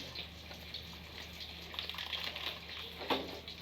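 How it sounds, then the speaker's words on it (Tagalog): Hot water poured out while cooking dried fish with onions: a steady, moderately loud liquid gush running across the few seconds, with no talking over it. "Lagay tayo ng mainit na tubig."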